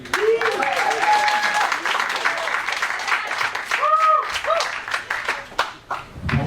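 A comedy club crowd claps loudly for a stand-up comedian taking the stage, dense applause with whoops and cheers, tapering toward the end as a voice begins speaking.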